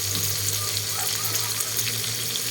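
Fish that grandma caught frying in a pan, a steady dense sizzle with a low hum underneath, continuous and fairly loud throughout, no talking.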